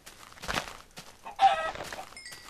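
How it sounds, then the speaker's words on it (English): Minecraft chicken clucking in a blocky game world, a few short bursts of clucks close by, with a brief electronic tone near the end. "like that chicken there"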